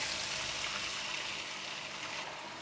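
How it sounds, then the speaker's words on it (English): Water poured into a pan of stir-fried fish with ginger and parsley makes a steady, soft hiss that fades slightly toward the end. "Add in the water"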